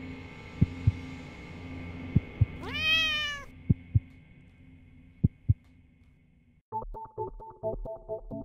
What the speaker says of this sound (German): die Katzen sind auch eingesperrt